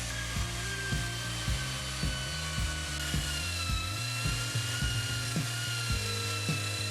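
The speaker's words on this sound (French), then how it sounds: "D'abord, un bon nettoyage à la brosse métallique." A wire brush scrubbing a painted steel tie rod with lead-oxide primer, giving a loud, continuous rasping scrape with regular rhythmic strokes about twice per second.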